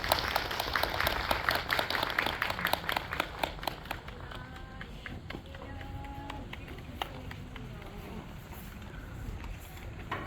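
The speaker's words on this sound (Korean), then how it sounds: "같이 박수 치면서 자리 마무리하겠습니다." A cinema audience at a film Q&A at Megabox COEX claps together to close the session, brisk and dense at first, then thinning and fading away over the following seconds.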